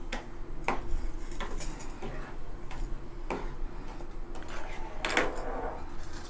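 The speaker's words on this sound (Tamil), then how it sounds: "இதை திறந்து வச்சு அப்பப்போ கிண்டிகிட்டே இருக்கணும்" A spoon stirs apple jam cooking with sugar in an open pan, giving sporadic light ticks and scrapes against the metal over a quiet background.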